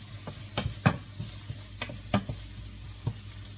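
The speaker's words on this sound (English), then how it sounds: "Butter is melting." Butter melts in a pan as fried rice cooking begins, giving a soft sizzle broken by scattered clicks and scrapes of stirring, quiet and close with no voices.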